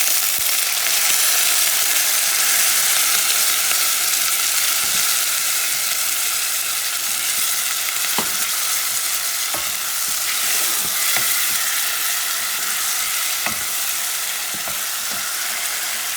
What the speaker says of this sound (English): You have the patitas and the tomato sauce are mixing it up.